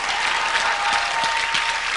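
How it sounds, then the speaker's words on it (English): A corporate entertainment crowd gives a volunteer a big round of applause, a short burst of dense, even clapping heard close and loud with no talking. "Big round of applause for Scott."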